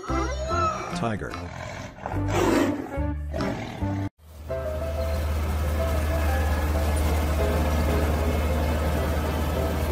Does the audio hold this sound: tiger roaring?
yes